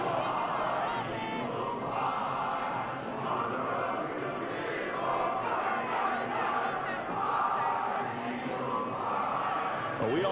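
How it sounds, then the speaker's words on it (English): A home stadium crowd in the football game Madden 24 applauds and roars, a steady, dense wall of cheering that holds for the whole stretch with slight swells. "And the home crowd applauding."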